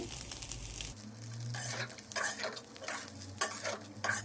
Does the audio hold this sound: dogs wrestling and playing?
no